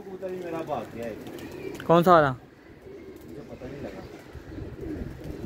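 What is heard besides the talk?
pigeons cooing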